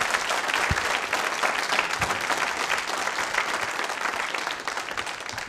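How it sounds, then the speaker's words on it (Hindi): An audience at a nursing college quiz show claps steadily, a dense and even round of applause filling the room without a break. "तालियां बजाइए इस संकल्प के लिए"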